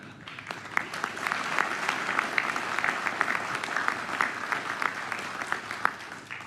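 Audience applause rings out for a contestant standing up at the American Legion National Oratorical Contest, a steady, moderate patter of many hands clapping in a hall for several seconds with no talking.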